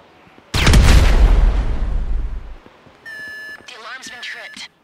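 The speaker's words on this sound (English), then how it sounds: "An explosion will tend to do that." A planted charge explodes in GTA 5, a sudden loud roaring blast that decays over about two seconds, followed by electronic beeps and a warbling alarm.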